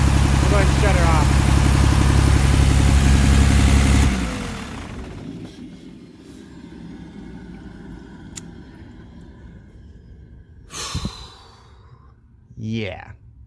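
12-valve Cummins diesel truck engine with an injection pump problem idles with a loud, steady rumble, then cuts off abruptly and falls quiet, followed by faint shuffling and a couple of brief sharp noises.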